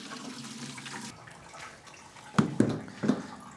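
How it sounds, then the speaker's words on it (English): Coolant splashing from a 1970 Datsun 240Z radiator drain plug into a bucket underneath: a soft, uneven liquid trickle and spatter, with a few sharper splashes near the end. "which is pretty hard when draining coolant, I've just got a bucket underneath and I'm going to pull the plug"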